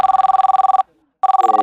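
A telephone bell rings loudly in rapid electronic trills, stops for a short silent gap, then resumes ringing close by.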